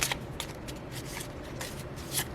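A deck of cards is shuffled for a tabletop game, a quick run of crisp riffling bursts, close and clear with no talk.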